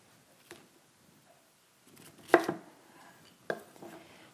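A knife slices a vegetable in half on a cutting board, giving a few faint separate chops and thuds in a quiet kitchen.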